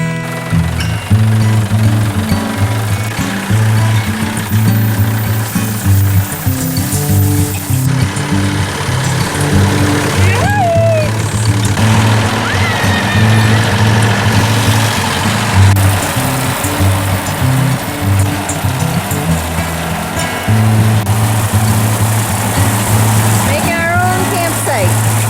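A tractor engine runs steadily at a boondocking campsite, a loud continuous low throbbing drone that persists throughout with only brief dips, while people talk intermittently over it.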